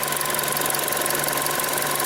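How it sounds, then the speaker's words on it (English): A Chevy Sonic with a thermostat heater control circuit fault idles with its engine running, a steady, even hum and faint ticking vibration that holds constant and close throughout, with no voices. "Key on, engine running, you can do that test a little bit longer."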